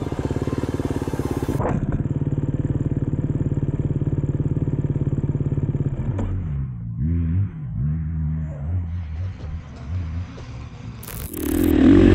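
A motocross motorcycle on a sand track accelerates at high revs: a loud, steady engine drone for several seconds, then a rising and falling growl as the bike works through the terrain.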